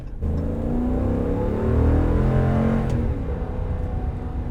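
Ram HD 3500 pickup with a naturally aspirated 6.4-liter Hemi V8 accelerating hard, a deep steady engine roar that swells and rises in pitch, heard close without talk.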